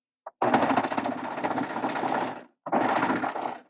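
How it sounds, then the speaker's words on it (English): A sewing machine stitches a seam on a fabric neck warmer, running in a steady close whir for about two seconds, pausing briefly, then whirring again in a second short burst. "we're going to stitch right down this way, just like we did this one"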